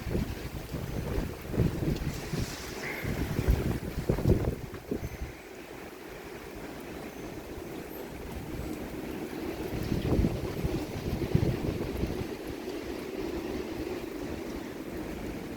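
Strong wind gusting during a heavy thunderstorm, a continuous low rumbling roar buffeting the microphone, swelling and easing in waves over the clip.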